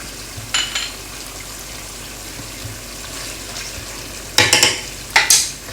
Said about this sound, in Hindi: इसको आपने अच्छी तरह से मिक्स कर देना है और इसको भी आपने भून लेना है